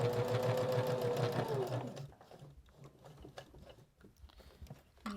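Domestic sewing machine stitching fabric for a small nail file holder, a close steady whirring run that slows and stops about halfway, followed by quieter clicks and handling of the presser foot and material.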